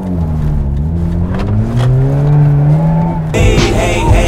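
A sports car engine revs up with a rising, whistling whine that climbs in pitch as it accelerates, loud and close, then cuts to a different roar.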